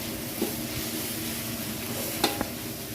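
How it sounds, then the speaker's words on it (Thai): Chili paste stir-fried in oil in a pan for a tilapia dish with three-flavour chili sauce, giving a steady soft sizzle with a few sharp scraping clicks of the spatula, close and fairly quiet, no talking. "ผัดไปจนน้ำพริกให้มันหอมก่อนค่ะพี่น้องจ้ะ"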